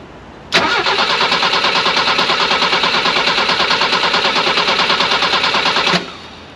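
A BMW E21 engine, unrun for over 20 years, is cranked by its starter in a loud, close, rapid rhythmic churning that lasts about five seconds before cutting off abruptly.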